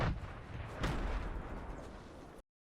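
Grenade blasts in the video game Fortnite, a low booming burst at the start and another about a second later, rumbling on as a muffled roar before cutting off abruptly.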